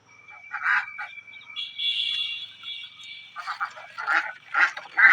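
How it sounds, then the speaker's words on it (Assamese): Ducklings peep in thin, high-pitched chirps, repeated in quick clusters close by, with one longer drawn-out call in the middle. "বহুতেই ভাল লাগিল হাঁহৰ পোৱালি দেখি কিনে"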